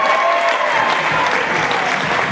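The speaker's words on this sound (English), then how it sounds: "Give him a round of applause to Joe Allen." Audience at a radio awards ceremony applauds steadily, a dense wash of clapping from many hands that stays loud and even throughout, with no voices on top.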